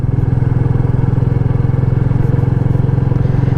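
A Royal Enfield Meteor 350 motorcycle engine chugs steadily and loudly in a low gear on a small country road, with an even, rapid thumping rhythm that holds without change.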